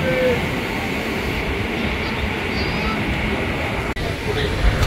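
A commuter train on the Sealdah–Ranaghat line pulls into Barrackpore station, a steady loud rumble of wheels and carriage noise filling the whole span with little change, plus a brief sharp dropout near the end.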